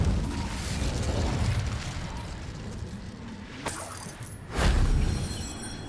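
Incendio fire spell cast in Hogwarts Legacy, a rushing whoosh and crackle of flame with a burst that swells near the end, set against busy game sound and no talking.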